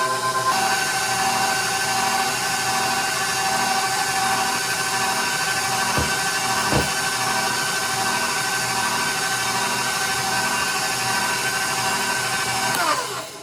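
An electric hand mixer beats eggs into lemon pound cake batter, a steady loud whirring drone that stays constant for about thirteen seconds before cutting off at the end.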